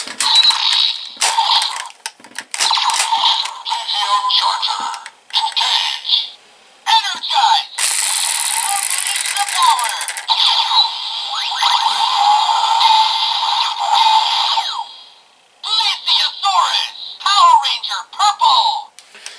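Bright electronic sound effects from a Power Rangers Dino Supercharge toy dinosaur charger play in bursts, chirpy tones and a sustained noisy blast in the middle, separated by short pauses.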